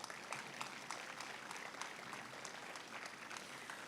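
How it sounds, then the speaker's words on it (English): An audience at the Gardena State of the City address applauds council members, a dense, steady wash of clapping that stays loud and even throughout, with no pauses. "Give them a round of applause"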